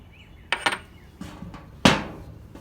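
A deep socket is tapped against an oil seal to seat it on a Honda mower shaft: a few sharp metallic knocks at irregular spacing, the last one loudest, close up with no voices.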